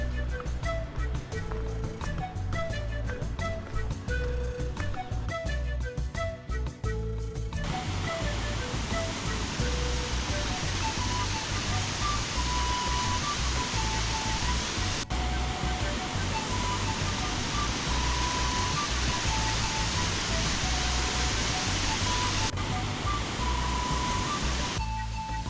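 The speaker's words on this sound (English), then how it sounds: "we made it to the Caratada waterfall" Carata waterfall near Cusco, Peru, a constant loud roar of falling water that continues with no pause throughout, close by and with no one talking.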